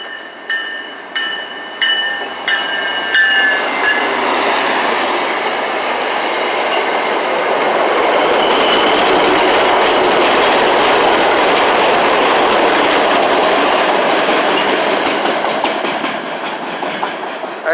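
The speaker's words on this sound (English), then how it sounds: "Here comes another train coming." A train rolls through the Four Corners Geneva Ave station, first with rhythmic clickety-clack wheel beats and then a loud, sustained roar of rail cars passing close by, with faint wheel squeal and no speech.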